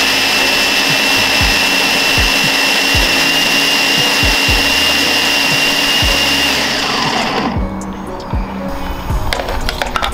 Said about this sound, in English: We're gonna puree